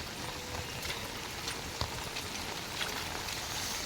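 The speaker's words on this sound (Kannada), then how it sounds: "ಈಗ ಜೋರು ಮಳೆ ಇಲ್ಲಿ ಕಾಸರಗೋಡು ಜಿಲ್ಲೆಯಲ್ಲಿ ರೆಡ್ ಅಲರ್ಟ್" Heavy rain falls steadily in Kasaragod district under a red alert, a soft continuous hiss of drops heard from some distance, with a few faint taps rising out of the wash.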